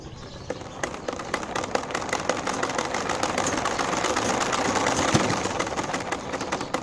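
A car alternator spins at low RPM in a homemade test rig, giving a steady mechanical whirring hum with fast clicking ticks, growing slightly louder toward the end, with no talk.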